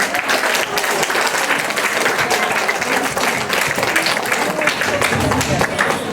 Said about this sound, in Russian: Давайте ей похлопаем.